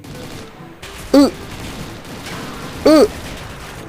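Gunfire in a CSGO Mobile-style mobile shooter: two loud, sharp shots about two seconds apart, standing out over a steady bed of game background noise.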